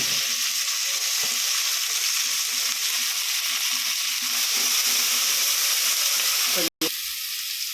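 Chopped tomatoes go into softened onions in a hot frying pan, setting off a steady, close sizzle with occasional stirring scrapes and a brief break near the end.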